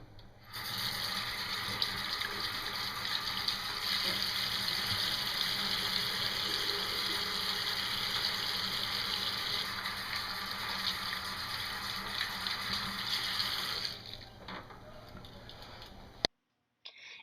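Water runs steadily from a tap for hand washing, a constant close hiss and splash that lasts about fourteen seconds, then stops abruptly, followed by a brief click and near silence.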